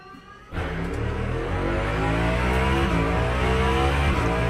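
A race car in Le Mans Ultimate bursts into a loud engine roar as it pulls out of the pit, revving up and climbing in pitch through gears, close and steady after a quiet start.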